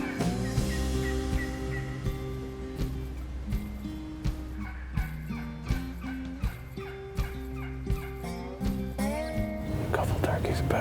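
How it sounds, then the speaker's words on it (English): Wild turkeys calling near hunters during a fall shotgun season hunt in western Kentucky, repeated gobbles and clucks at a distance, with quiet whispered talk and music over them. "With all the turkeys that I can hear around us right now,"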